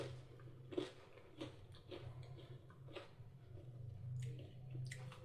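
Crisp sugar and sesame chikki is bitten and chewed at close range, giving a series of small dry crunches and clicks at an irregular pace with no speech.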